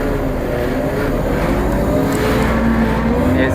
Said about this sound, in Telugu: ఇది బస్సు